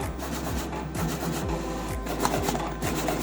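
A Teneth C6 Pro Plus label cutting machine runs through a batch of labels, giving a close, steady mechanical whir with regular clicking strokes roughly every half second, with no talk.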